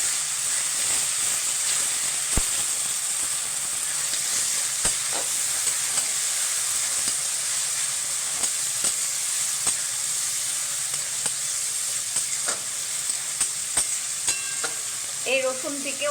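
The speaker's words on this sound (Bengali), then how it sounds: "এই রসুনটা দেবো, রসুনটাকেও আমি একটু ভেজে নেব" Garlic paste fries in oil in a pan with onions for a country chicken curry, a steady near sizzle broken by occasional sharp spatters and stirring clicks.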